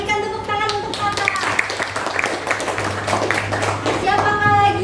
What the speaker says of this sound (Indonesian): Berikan tepuk tangan untuk Tata.